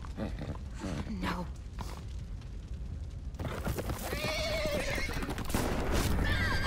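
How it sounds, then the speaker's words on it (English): A horse in The Walking Dead Telltale game neighs after being shot, a loud wavering whinny that rises and trembles, heard alongside game noise. "Who the fuck shot my horse?"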